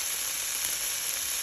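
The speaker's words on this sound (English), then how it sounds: "we're gonna add 2 large cloves of garlic diced into small cubes. Cook for another minute or so" Diced garlic and mushrooms frying in a pan, a steady, close hiss of sizzling oil that holds evenly throughout with no voices.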